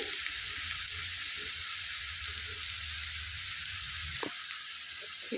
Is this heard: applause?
no